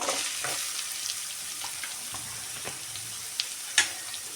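Chopped watermelon peels frying in a pan for a palya make a soft, continuous sizzle with small crackles and a couple of sharper pops near the end; no one speaks.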